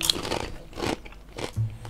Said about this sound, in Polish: Nie no, gryziemy, no tak jak chipsy byś jadł.